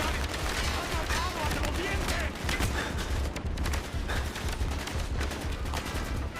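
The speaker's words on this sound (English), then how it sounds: "I'm trying to see where this gunfire is coming from." Gunfire from Call of Duty: Black Ops rattles continuously in dense, loud bursts during a campaign mission, layered over a rumbling low background with no clear gaps.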